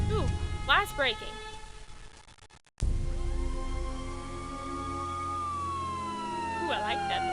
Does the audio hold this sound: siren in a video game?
yes